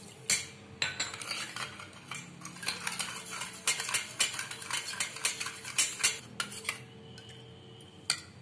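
A metal spoon clinks and scrapes rhythmically against a bowl while stirring sugar to dissolve it for a maida puri dough, repeated close taps and swirls with no talk.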